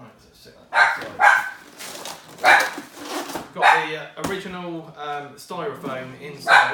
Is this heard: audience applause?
no